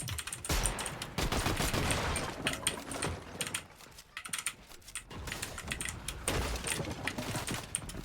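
Rapid, dense pistol fire in a video game, with bursts of sharp cracking shots alternating with short lulls and near-continuous clatter across the stretch.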